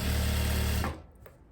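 A sewing machine runs in a fast steady burr for under a second while stitching over an overlock seam on a kaftan, then stops abruptly, leaving faint clicks.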